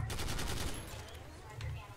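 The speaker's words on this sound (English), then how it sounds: "Where is this mortar that's hitting me?" Explosive mortar impacts and rapid gunfire in the shooter game SYNTHETIK, a dense run of loud bursts packed together, easing off midway and swelling again near the end.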